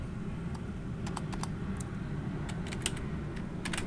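A macro name being typed on a computer keyboard, a run of light, uneven key clicks over a steady background hiss, fairly faint and with no talk.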